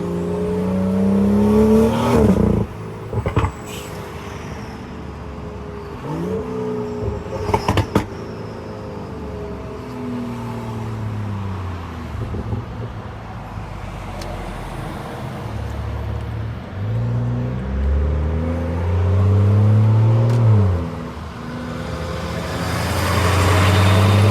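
A stage 2 tuned B58 BMW 540i accelerates hard at night, engine revving up through repeated gear changes, loud from inside the car with traffic around.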